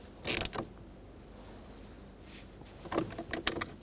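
Bolts are tightened on a Ford Taurus combination switch, heard as short bursts of close, faint ratcheting and creaking clicks separated by a quiet pause.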